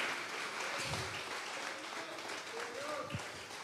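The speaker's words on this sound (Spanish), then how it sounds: "Vamos a regalarle ofrenda de palmas al Dios de la gloria" Church congregation applauding during a service, a steady wash of clapping from the crowd, moderately loud and continuous with faint voices mixed in.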